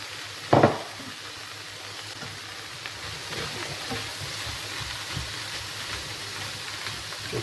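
Mushrooms frying in a pan for beef stroganoff, with a steady soft sizzle throughout and a sharp clatter near the start as they are stirred, then faint scraping turns.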